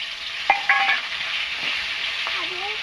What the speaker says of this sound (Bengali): বাকি মাছটা ভেজে নেবো